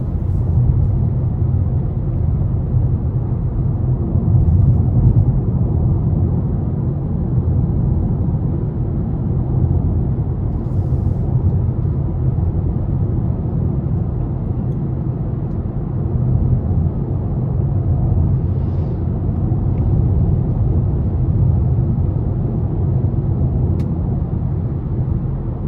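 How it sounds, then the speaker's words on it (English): Steady low road and engine rumble inside a 2022 Nissan Sentra SR Premium with a 2-liter engine, heard from the cabin while driving; a constant, moderately loud drone with no talking. "And so far, cabin sound is pretty decent."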